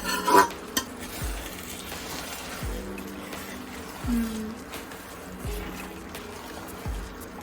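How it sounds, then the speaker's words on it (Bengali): Onion, ginger, chili, garlic and chopped tomato fry for a tadka, with a soft sizzle beneath repeated spoon knocks against the pan, fairly quiet and close. "আবার একটুখানি পেঁয়াজ আদা পেঁয়াজ লঙ্কা রসুন আর টমেটো কুচি একটু ফ্রাই করে এবার তরকাটা দিয়ে দেওয়া হলো"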